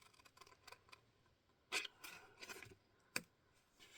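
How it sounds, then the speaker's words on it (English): Scissors snip a small square off a card during a card-making craft project, giving a few quiet, scattered crisp cuts with brief rasping gaps, heard close up and alone. "so we're going to cut this little square off here"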